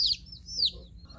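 Baby chicks peep softly while huddled together under a heat lamp in a brooder, with two high chirps over a low steady hum.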